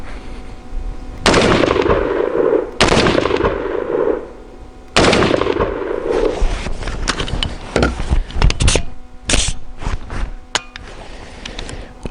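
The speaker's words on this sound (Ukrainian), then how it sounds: "Зараз перевіримо, як працює карабін AndroCorp із складеного прикладу з переведенням у бойовий режим." Andro Army ACI LA-15 BRAVO 12.5-inch carbine firing outdoors, several loud sharp shots and short bursts, the first ones spaced apart, then a quicker string of rapid shots with echoing tails.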